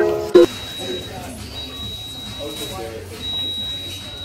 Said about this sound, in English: I come to Whataburger and all I hear is this beeping.